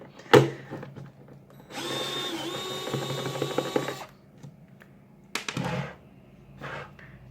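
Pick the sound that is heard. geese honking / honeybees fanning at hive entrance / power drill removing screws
power drill removing screws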